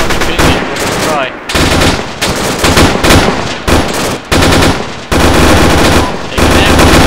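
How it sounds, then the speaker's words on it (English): Rapid bursts of loud automatic gunfire in the video game Arma 3 rattle in quick succession, separated by brief pauses, with a dense, harsh crackle throughout. "Gunfire."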